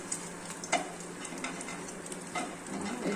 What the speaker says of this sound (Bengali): ছানার বড়া ভাজা হয়ে গেছে